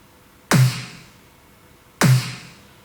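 A fat EDM snare processed with an amp-simulator sample hits twice about one and a half seconds apart, each with a sharp bright crack, a pitched body and a ringing tail, with nothing else playing.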